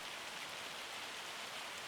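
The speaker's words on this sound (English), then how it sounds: "Except it seems to be raining." Rain falls in Farming Simulator 25 as a steady, even hiss of drops on a surface, soft and continuous over a brief stretch with no talk.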